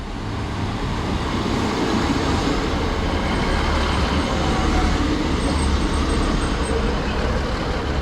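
A British Rail Class 156 diesel passenger train, unit 156414, arrives at a Lincolnshire platform with a steady, loud rumbling engine drone and broadband roar throughout, with a faint high squeal midway.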